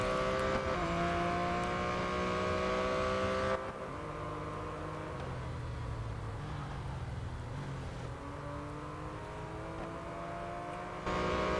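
Porsche Boxster GTS racing engine in the Real Racing 3 video game on iPad, a steady droning engine note running continuously with shifts in pitch, close and fairly loud, with no talk.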